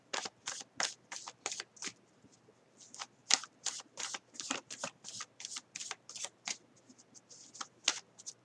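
Tarot cards being shuffled by hand, a quiet, close series of crisp riffling bursts in a steady uneven rhythm, with no talk.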